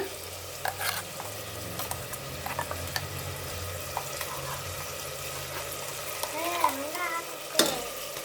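Ground masala paste for mint pulao fries in a pan with a low, continuous sizzle. Scattered clinks and scrapes of stirring run throughout, and a short burst of running water comes near the end.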